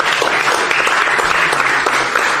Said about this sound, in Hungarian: Egy tapsot szeretnék kérni.